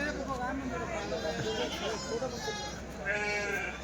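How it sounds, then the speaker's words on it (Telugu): Goats and kid goats call out at Kadiri's Tuesday goat market. Scattered, overlapping bleats mix into a dense bed of crowd chatter, with people talking close by throughout. "పిల్లలు ఉన్నాయి మేకలు ఉన్నాయి"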